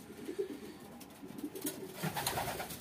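Domestic racing pigeons cooing softly in a loft, with several low, burbling coos scattered across a quiet background and faint rustling.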